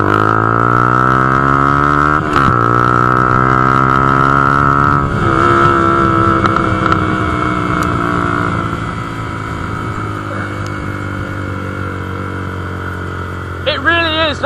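A Honda CB125F motorbike pulls away slowly, its engine holding a strong steady tone near the listener, then revving and shifting before easing off and fading toward the end.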